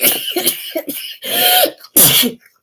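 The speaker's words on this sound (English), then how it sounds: "Sneeze, sneeze, sneeze." Three sneezes in quick succession, each a sharp burst of breathy noise with a voiced edge, close and fairly loud.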